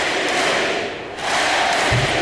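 Basketball arena crowd roaring and cheering during a game, a dense, loud, sustained wall of voices that dips briefly before surging again.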